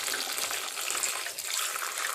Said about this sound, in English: just fill up your bowl with the water.